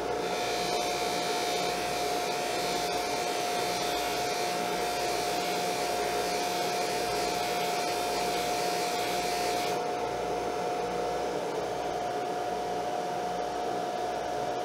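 An ARBE jewelry polishing machine buffs a ring with a steady, loud motor whir and broadband rushing hiss, holding constant throughout with a sustained hum tone and a slight drop in brightness near the end.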